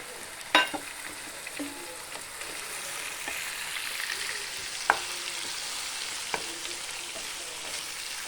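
Ginger garlic paste goes into a hot frying pot and is stirred, giving a steady sizzle with a few sharp utensil knocks against the pot, fairly quiet and with no voices.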